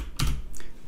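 Two quick, close keystrokes on a computer keyboard, short crisp clicks a fraction of a second apart against a faint background.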